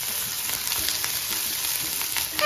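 Onion, ginger, garlic and chili fry in a pan for pork chow mein, giving a steady close sizzle with small crackles and a little stirring scrape. No one speaks.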